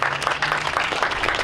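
Audience applause at a San Francisco celebration marking the 50th anniversary of the March on Washington: a steady patter of many hands clapping, moderately loud and continuous.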